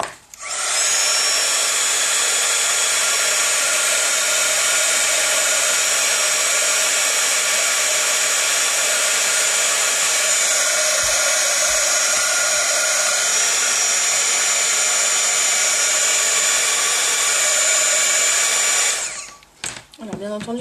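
A hair dryer blows steadily and loudly at close range for about twenty seconds, drying ink on a decorated wedding-invitation envelope, then cuts off abruptly near the end.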